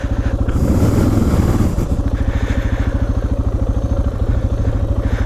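A Suzuki DR650 single-cylinder motorcycle engine runs loud and close while its rear tire spins, with a rougher surging burst early on that settles into a steady, throbbing chug.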